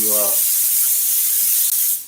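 Spray glue hisses steadily from an aerosol can while upholstering a Polaris vehicle seat, a loud close continuous spray that follows a brief voice at the very start.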